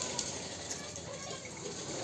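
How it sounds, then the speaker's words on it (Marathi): Water gushes steadily as a container is filled at a rural home, a continuous even rush of flow at close range with no clear breaks. "पाणी भरलं"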